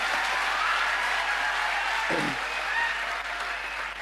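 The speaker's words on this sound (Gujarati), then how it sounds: "જોરદાર તાળી પાડો." An audience claps in sustained, dense applause at a motivational talk, even and fairly loud throughout, with a brief low thump partway through.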